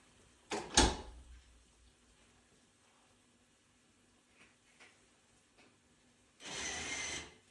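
A GEZE motorised door opener clunks sharply as it releases, then after a quiet pause its motor swings the door open with a steady hum lasting about a second.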